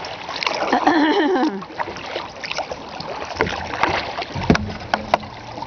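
A kayak is paddled along a rocky shoreline, with close, irregular paddle splashes and water sloshing against the hull, light wind buffeting the microphone, and a few sharper drips and strokes toward the end.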